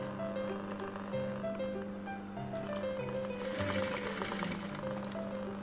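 A sewing machine stitches a tuck in a blouse with a fast, even mechanical clatter, close and steady throughout the stretch.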